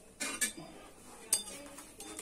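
A spoon scrapes and clinks against a pan as homemade popcorn is stirred into hot jaggery syrup, a few sharp metallic taps and scrapes spaced irregularly over quiet background.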